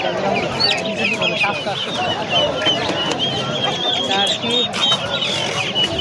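Chickens, including Polish cap chickens, cluck and squawk continuously nearby among turkeys while a person talks over the flock.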